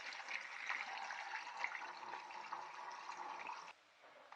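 Mushrooms are rinsed one by one under running water, a soft, steady gush of tap flow and splashing that drops off abruptly near the end.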